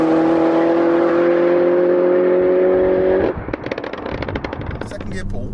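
A 300 bhp stage 2 Peugeot 308 GTi engine roars loudly with a rising whine accelerating hard in second gear, then cuts into rapid popping and crackling bursts as the revs drop.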